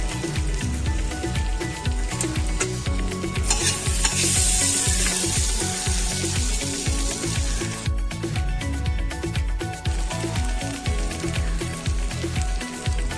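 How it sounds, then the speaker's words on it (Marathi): A buttered sandwich toasts on a hot griddle pan, giving a steady, close sizzle with rhythmic scraping and stirring over it and no talking. "हे पहा, सँडविच मी आता टोस्ट करत ठेवली आहे."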